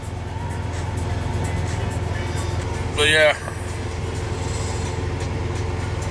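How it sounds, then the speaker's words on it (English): Steady low rumble of a train rolling past, with a brief squeal or horn-like tone partway through and a short spoken remark. "look, a train."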